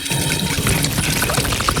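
Water pours in a steady, close splashing stream for a couple of seconds, loud and continuous with no voices over it.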